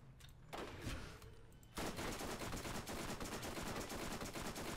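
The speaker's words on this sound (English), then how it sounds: "now I have to switch to using my sniper rifle, because otherwise we won't do any damage against it" Sniper rifle fire in the Borderlands video game during a fight: a burst of loud shots, then a dense, continuous stretch of rapid gunfire and explosions, close and alone without talk.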